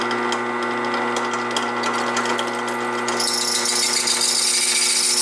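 A drill chatters as it cuts through the hardened steel tang of a paring knife to open holes for pins, a close, continuous rattling whine with harsh, uneven vibration throughout and no talking.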